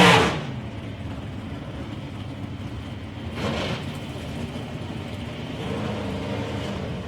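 A Toyota Supra drag racing car at a 2019 South Coast Nationals elimination event gives a loud engine roar that swells briefly, then holds a steady rumbling drone at moderate distance.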